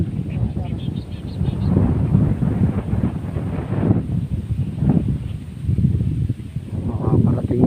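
Strong gusts buffet the microphone outdoors during a fishing trip, rumbling in heavy uneven surges with breaks between them, loud and close, while people talk nearby.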